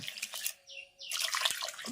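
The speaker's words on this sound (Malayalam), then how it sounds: "അപ്പൊ ഇതിന്റെ കൂടെ നമ്മൾ കുറച്ച് വെള്ളം കൂടെ ഒഴിക്കുവാണ്." Water poured into rice flour in a pot for making porridge, a short gurgling trickle with splashy drips that pauses briefly and resumes, close and fairly quiet.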